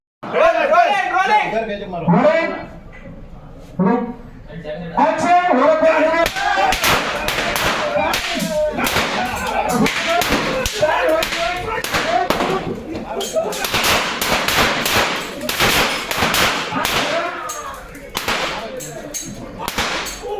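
Rapid bursts of sharp gunshot cracks on a film set shooting a club fight scene, many in quick succession and fairly loud, with people talking and calling out between and under them.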